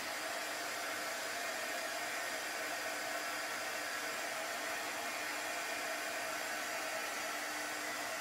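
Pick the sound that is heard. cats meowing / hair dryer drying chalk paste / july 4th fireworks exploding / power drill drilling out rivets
hair dryer drying chalk paste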